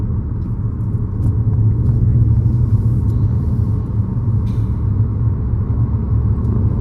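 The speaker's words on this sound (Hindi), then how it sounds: "अभी देखो हाई रोड पे हम लोग गाड़ी चला रहे हैं।" A car drives along a highway, heard from inside the cabin as a loud, steady rumble of engine and road noise that continues throughout, with no one speaking.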